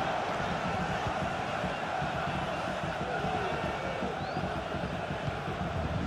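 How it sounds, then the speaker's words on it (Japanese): Dense, roaring stadium crowd at the Euro 2024 final between England and Spain, a steady loud wash of cheering and shouting with no break. "ひときわ高い歓声が上がります。"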